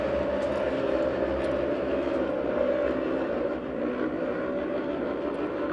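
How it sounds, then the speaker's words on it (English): Race car engine at a circuit race event pulsing steadily with a possible fuel delivery problem or rev limiter, a continuous loud drone held close throughout with no talk. "Somebody having some what would appear to be fuel delivery problems out there. You can hear it pulsing. Maybe that's just rev limiter."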